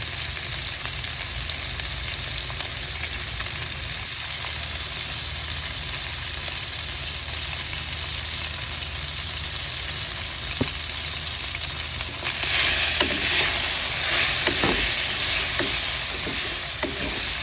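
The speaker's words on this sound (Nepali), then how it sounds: "मैले यसमा मासु राख्छु पहिला। यसलाई राम्रोसँग चलाउने।" Chicken meat sizzling steadily in a pan while being stirred for gravy, a continuous frying hiss that grows brighter and louder toward the end, with occasional scrapes.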